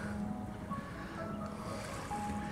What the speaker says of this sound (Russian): Море еще неспокойное